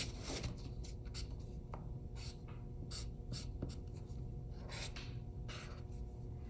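A marker drawn across paper gives a series of short, close scratchy strokes in an irregular rhythm, quiet and isolated with no voices.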